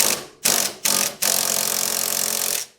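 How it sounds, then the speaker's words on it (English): Ratchet socket wrench with a 17 mm socket spinning on a suspension nut of an SLK32 R170, loud close rapid clicking in three short bursts followed by a longer continuous run. "So we'll just put a 17 on our socket. Hopefully it'll come off."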